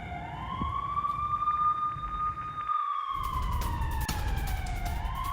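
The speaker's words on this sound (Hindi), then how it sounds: "इजराइल के कई शहरों में एयर रेड सायरन बज रहे हैं।" An air raid siren wails in an Israeli city, a steady rising and falling electronic tone that carries over low traffic-like rumble, with a brief dip partway through.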